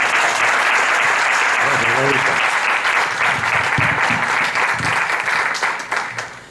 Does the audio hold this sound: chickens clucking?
no